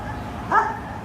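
A single short dog bark or yip rises briefly against a low background of murmuring voices, near and moderately loud.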